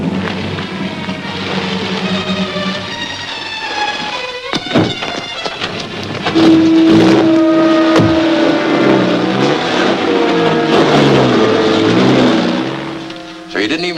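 A truck's engine starts up and accelerates away, rising from a low rumble to a loud, revving roar that then fades, with brief talk at the start.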